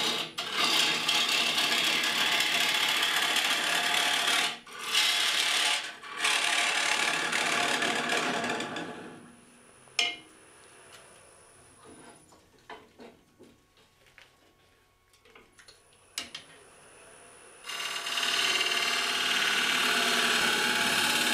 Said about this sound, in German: Ich benutze hier in dem Fall eine 13 mm Schalenröhre, die ich im vorderen, im Spitzenbereich auf 60 Grad Winkel angeschliffen habe.